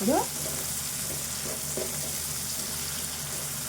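Goat liver curry ingredients fry in a pan with a steady, even sizzle throughout, close and moderately loud, opening with a brief clink or scrape at the start.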